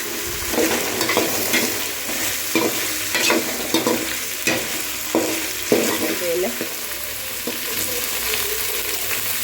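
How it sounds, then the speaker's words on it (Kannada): Onions roasting in a pan are stirred with a steady sizzle, broken by a series of scraping, clattering strokes of the spoon against the pan, close and fairly loud with no talk. "ಇದು ಫುಲ್ ರೋಸ್ಟ್ ಆಗಬೇಕು ಗೈಸ್, ನಾನು ಆಡಿಸ್ತೀನಿ."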